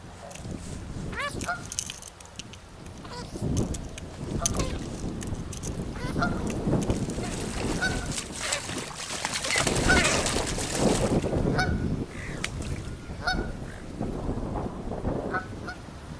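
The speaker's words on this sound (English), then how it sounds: "I got me a goose." A goose honks repeatedly beside a carp fishing lake, loud nasal calls recurring over steady outdoor wind and water noise, fairly near.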